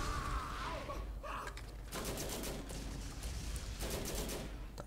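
Gunfire rattles in a Borderlands co-op session, bursts of rapid shots at moderate distance with broadband crackle, separated by brief lulls, no talk over it.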